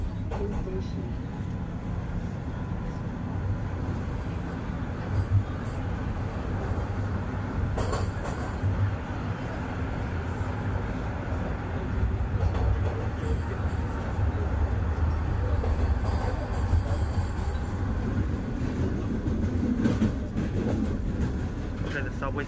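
A Toronto TTC Line 1 subway train runs steadily, its deep rumble and rattling wheels filling the car with a continuous, fairly loud roar that swells slightly midway.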